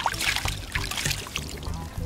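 Water sloshes and trickles as a crab is rinsed in seawater on the shore, with splashy bursts recurring through the short moment, fairly close.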